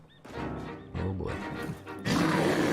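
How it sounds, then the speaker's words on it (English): A bear in the survival video game The Long Dark lets out a series of deep, rough roaring bursts, growing louder and closer, ending in a sustained heavy roar. "That's the old bear."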